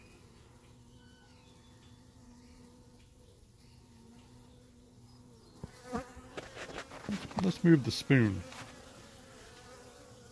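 A low steady hum from a cluster of honeybees runs quietly at first, then loud close-up buzzing bursts in irregular surges as the bees stir, with a brief voice speaking.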